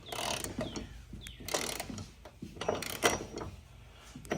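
A hand ratchet works loose the center mount bolt under a Jeep Gladiator, giving bursts of quick clicking strokes with short pauses between them, close and moderately loud.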